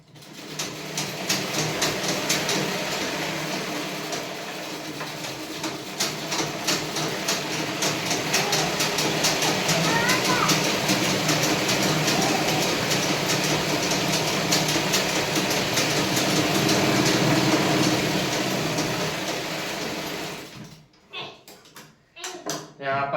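A sewing machine stitches fabric in a rapid, steady mechanical clatter that runs for about twenty seconds, then stops abruptly, leaving a few brief knocks.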